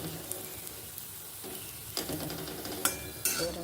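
Potato and carrot pieces fry in a pan, a quiet steady sizzle broken by a few sharp utensil scrapes and clinks toward the end.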